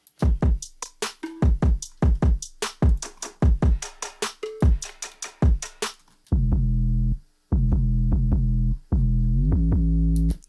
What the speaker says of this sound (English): So all together, the drums sound like this.